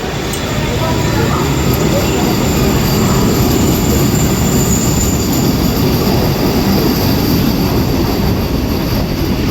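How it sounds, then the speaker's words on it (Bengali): Sealdah suburban local train pulling out of Sodepur station, heard from on board as a loud, continuous rumble of wheels and carriages with a steady rolling roar throughout. "আমাদের ট্রেন এখান থেকে ডিপারচার নিচ্ছে"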